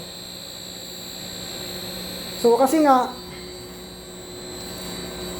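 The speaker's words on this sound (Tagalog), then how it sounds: "Umaandar yung motor." An electric motor runs under Danfoss inverter control, giving a steady tonal hum with high-pitched whine lines throughout, while someone speaks briefly over it near the middle.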